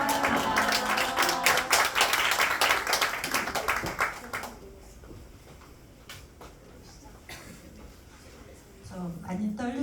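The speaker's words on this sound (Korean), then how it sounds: "앞으로 오실 때 사랑합니다 하면서 박수치고 환영하겠습니다." A church congregation at a Friday worship service claps and applauds in welcome as a member walks forward. Dense, lively clapping for the first four seconds, then it fades into quieter room noise with a voice starting near the end.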